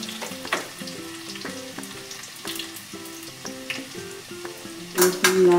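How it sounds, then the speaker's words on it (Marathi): Garlic sautéed in a pan until reddened, a continuous moderate sizzle with repeated spoon scrapes and a louder clatter of utensil on pan near the end. "लसूण लाल होईपर्यंत परतवून घ्यायचं आहे."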